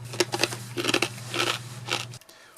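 Crunchy soybean and corn kernels being chewed, a run of close, crisp crunching bites with short pauses between them over a low steady hum, stopping abruptly near the end.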